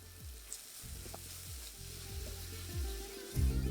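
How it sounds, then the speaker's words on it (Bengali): Onion frying in a pan for a sim bharta recipe, a soft steady sizzle with repeated low scraping thumps of stirring, alone without talk. "দেখতেই পাচ্ছেন পেঁয়াজটা এখানে কিন্তু বেশ ভালো করে এখন ভাজা হয়ে যাচ্ছে"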